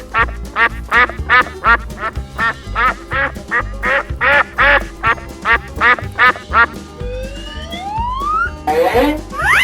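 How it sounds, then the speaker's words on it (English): A cartoon duck quacks in a quick repeated series of loud, bright calls over a backing music track, followed by rising whistle-like sweeps at the end. "Duck"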